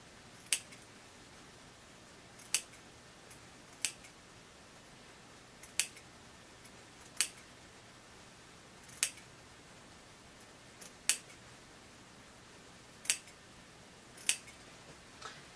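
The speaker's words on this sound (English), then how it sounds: "I am going to cut that seam allowance on that side and cut that one at an angle on that side" Scissors snipping through a fabric seam allowance during sewing, about ten crisp, quiet clips spaced at irregular intervals over faint room noise, with no talking.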